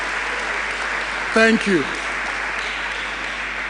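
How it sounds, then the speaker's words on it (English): Audience applause fills a school's fifteenth anniversary durbar celebration as a steady, even wash of clapping, with a brief spoken voice cutting through near the middle. "I think you can clap for yourself."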